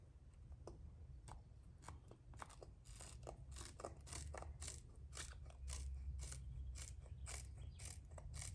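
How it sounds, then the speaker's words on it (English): Scissors cut through table tennis racket rubber in a steady series of crisp snips and crunches, close and fairly quiet, with no talking. "I can probably cut the rubber now"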